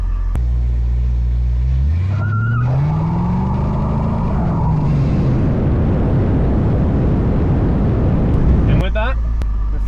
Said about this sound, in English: this is my 1966 Mustang. Now this car is a 289 automatic car